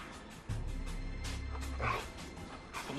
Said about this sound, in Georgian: ამ ძაღლს აქ რა უნდა?